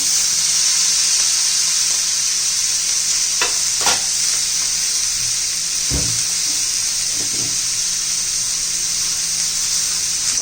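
Fenugreek leaves sauté in hot oil with red chilli powder and salt, making a loud, constant hiss and sizzle, broken by a few sharp clinks and scrapes of a spatula stirring the pan.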